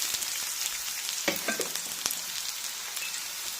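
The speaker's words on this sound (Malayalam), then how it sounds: "ഇനി കറിവേപ്പില വറ്റൻമുളക് ഒന്ന് ഇളക്കി നന്നായി ഒന്ന് മൊരിച്ചെടുക്കും" Curry leaves and dried red chillies fry in hot oil, giving a dense, even crackling sizzle close by, with a few faint stirring clicks over the steady hiss.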